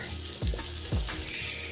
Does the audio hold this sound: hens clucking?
no